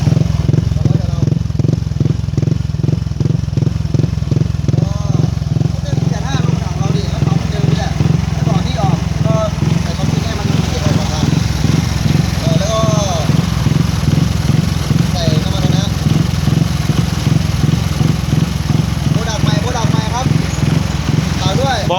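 Motorcycle engine fitted with an APITECH fuel injection conversion kit replacing the carburetor, running at a steady even idle with rapid regular firing pulses, close and continuous while someone talks over it.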